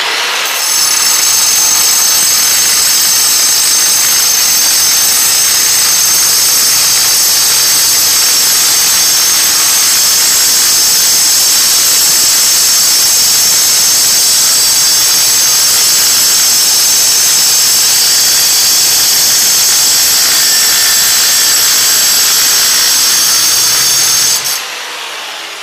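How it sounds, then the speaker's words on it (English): An angle grinder fitted with a Graff diamond metal cutting wheel slices through metal in one long, loud, continuous high-pitched shriek lasting over twenty seconds, close by, ending abruptly. "we've set this angle grinder up so it's kind of going to throw sparks towards me"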